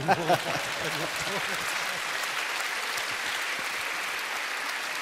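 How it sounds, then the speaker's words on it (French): An audience at a French literary dialogue event breaks into sustained applause, a dense, even wash of clapping that holds steady throughout, with a brief voice at the very start. "On peut avoir un applaudissement pour quitter le"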